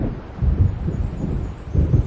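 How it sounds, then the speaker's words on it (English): Low rumbling thunder of an approaching storm rolls in swells under wind noise in the Alan Wake video game, with no voices, and swells of deep, broad rumble return about every second. "It seems there's a storm coming."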